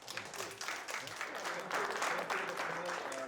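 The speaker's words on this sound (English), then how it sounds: "Okay, round of applause." Audience applause following a panel discussion, a soft wash of many hands clapping heard from a distance, with a voice speaking faintly over it.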